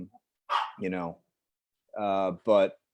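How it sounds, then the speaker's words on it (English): A dog gives several barks in two short bursts, near and clear against an otherwise quiet room. "Sorry, my dog's barking."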